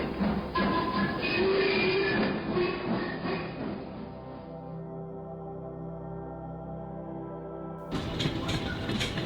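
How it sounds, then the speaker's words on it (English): A train pulls out of Hooton station on the Wirral, heading towards Ellesmere Port: a loud, steady engine drone with a sustained tonal hum that gradually fades, then a fresh burst of rumbling near the end. "the train heading towards Ellesmere Port departs"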